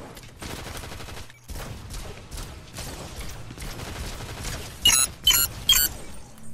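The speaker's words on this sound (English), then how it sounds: "Who's he shooting at?" Fortnite video game gunfire comes as dense, rapid bursts of shots in a continuous volley, followed by three louder, sharper clusters of shots near the end.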